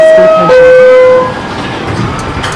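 Roblox train from the STS B/D line sounding a two-tone horn up close, then rumbling on as the horn fades into steady rolling noise.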